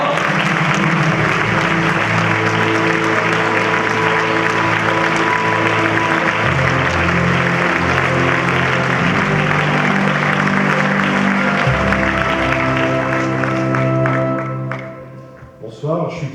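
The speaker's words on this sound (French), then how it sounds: "Applaudissez très fort." Sustained audience applause fills the hall at the closing ceremony of the La Rochelle fiction festival, a dense, steady clapping wash over held music tones, fading out near the end.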